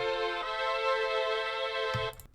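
Synth strings and brass for a beat, run through vinyl, filter and chorus effects: a steady sustained chord with dulled highs, shifting once early, then fading out near the end with a brief low thump.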